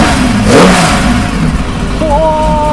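A red Nissan Skyline Hakosuka fitted with a TC24 twin-cam engine runs close by, its loud, throaty engine note swelling in a quick rev over a steady idle, with no talk.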